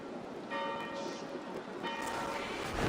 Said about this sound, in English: Do you not hear the bells?